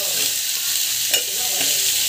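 Onions with fennel and cumin sauté in a pan with a steady broadband sizzle, a few stirring scrapes rising briefly above it, close and fairly loud, no voices.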